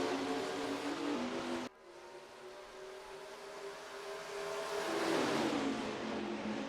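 Race car engines in the NASCAR Racing 2003 video game run through the gears at a 2020 Dixie Vodka 150 restart. A steady high engine drone drops sharply at a gear change, then builds and climbs again.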